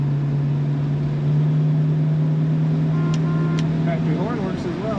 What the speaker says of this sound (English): Car starts up and purrs very easily right away.